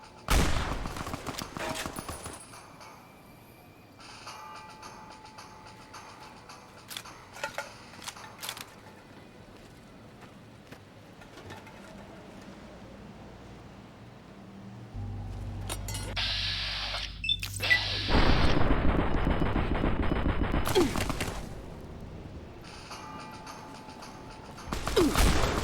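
Gunfire from the Fallout: New Vegas Lonesome Road add-on, bursts of game shots and mechanical clatter scattered over about 25 seconds, loudest in a dense stretch near the end.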